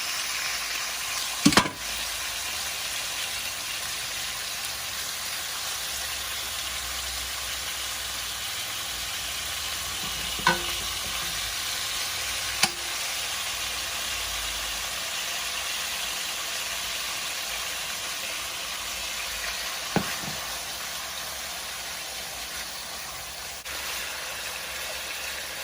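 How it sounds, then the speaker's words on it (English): Beef for Filipino bistek fries in a pan with a steady, low, even sizzle that lasts throughout, broken by a few sharp utensil clicks. "And when you fry the meat, just wait until it becomes brownish."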